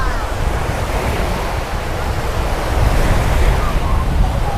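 Sea waves roll onto a sunny beach in a dense, continuous roar of surf, close and loud, with gusty wind buffeting the microphone.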